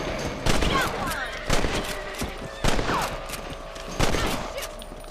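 Rifle gunshots in the Red Dead Redemption video game: four loud, single shots spaced about a second apart over outdoor ambience, with faint game sounds between them.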